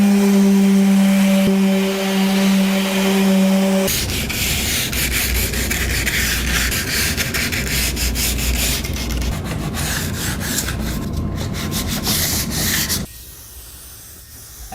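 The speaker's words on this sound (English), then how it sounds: "It's time to give this a good sanding." Sanding a mid-century modern Lane wooden dresser, a steady continuous abrasive rubbing that runs loud and close for most of the stretch after a brief tonal hum at the start, then cuts off near the end.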